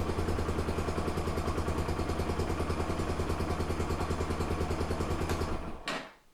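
A Yamaha YBR 125 motorcycle engine idling steadily during an oil change, with a regular throbbing pulse that holds for about six seconds, then cuts off abruptly into near silence.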